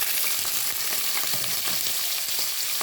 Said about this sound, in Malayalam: ഞാനേ ഈ പാവയ്ക്ക മാത്രം ഇട്ട് കൊടുക്കുക.